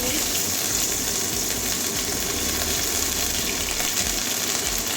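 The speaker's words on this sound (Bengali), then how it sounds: "একটা তেজপাতা ছেড়ে দিচ্ছি আদা কুচি দিয়ে দিচ্ছি" Bay leaf and chopped ginger drop into hot oil for a Bengali ash gourd curry, producing a steady, close, loud sizzle and hiss that continues evenly throughout.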